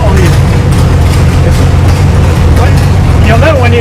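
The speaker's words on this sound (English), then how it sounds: "Well, that's just a blip of the throttle." A Jaguar V12 9-litre engine in an XK land speed record car roars at close range, a loud, continuous low rumble of a throttle blip with people talking over it.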